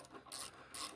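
Carburetor elbow nuts on a Honda HS724 snowblower are tightened with a wrench, two short raspy ratcheting strokes, faint and close, separated by a brief pause.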